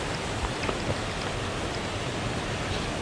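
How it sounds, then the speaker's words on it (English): A small waterfall inside an abandoned mine makes a steady, dense rush of splashing water, close and constant, with no voices. "Check out the little waterfall."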